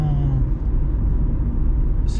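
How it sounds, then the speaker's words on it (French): Chrysler PT Cruiser Classic from 2003 with a 2-litre 140 hp petrol engine accelerating, a steady low engine rumble running close and continuous, with a brief hiss near the end. "Alors la voiture accélère"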